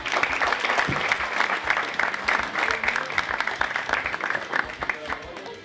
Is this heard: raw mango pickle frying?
no